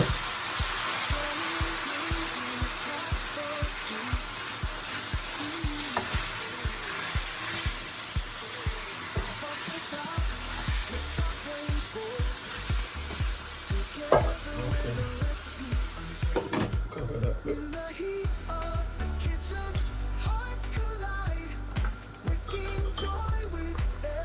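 Lamb for a Jamaican-style stew sears in a hot pot with a loud, continuous sizzle and crackle that runs for over twenty seconds, broken by occasional clinks and a shift in texture partway through.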